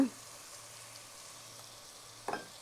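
Vegetable biryani base sautéing in a pan over lowered heat as tomato and mint go in, giving a faint, steady sizzle with a brief clatter near the end.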